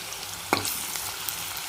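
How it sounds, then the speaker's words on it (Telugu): Onions, green chillies and ginger-garlic paste frying in oil in a home kitchen, a steady close sizzle with one sharp burst as something is stirred or added, then a continuous crackle. "ఇప్పుడు ఈ మిగిలిన నూనెలో ఉల్లిగడ్డలు, పచ్చిమిరపకాయలు పోపు చేద్దాం."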